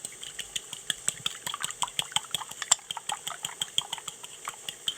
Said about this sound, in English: just gonna whisk it